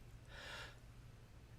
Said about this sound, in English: with a quick deep breath in